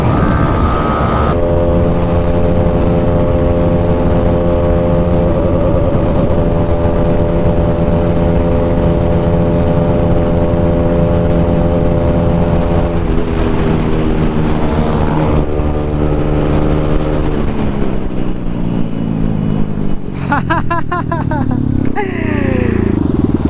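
Yamaha R15, Bajaj NS250, MT15 and N250 motorcycles drag race, their engines giving a loud, sustained, high-pitched whine that climbs through shifts, with a voice heard briefly over the roar.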